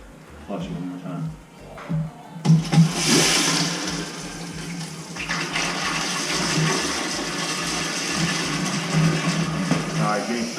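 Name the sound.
toilet flushing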